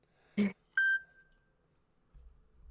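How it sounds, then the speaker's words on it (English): A mobile phone left on loud sounds a short electronic burst followed by a clear, ringing tone that fades over about half a second, close in an otherwise quiet room. "That definitely wasn't me leaving my phone on loud again"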